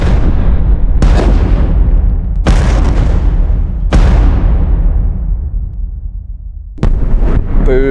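Explosive charges detonating during Marine EOD training, four heavy booms spaced about a second or two apart, each with a long rumbling decay, then a fifth blast near the end, loud and close.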